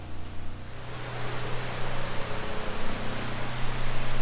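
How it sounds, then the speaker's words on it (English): Steady rain falls on a house building site, a dense, continuous hiss of drops on surfaces that holds even and fairly loud, with a low steady hum underneath and no talk. "Well, as you can see, it's raining"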